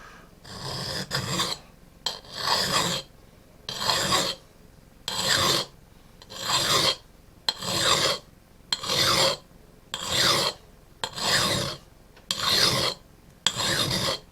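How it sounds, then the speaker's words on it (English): A metal tool edge is ground by hand against a sharpening surface in slow, regular rasping strokes, about a dozen of them, close and distinct with brief pauses between. "you're going to be going down on the edge of that bevel to you're actually grinding away metal in order to make it sharp."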